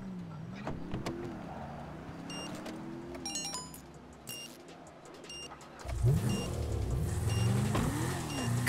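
A car engine in GTA V idles and revs with rising and falling pitch, joined by electronic beeps and chimes, then a louder burst of revving near the end.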